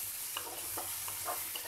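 Chopped onion pieces fry softly in oil in a pan, a faint steady sizzle broken by a few light stirring scrapes, with no talking.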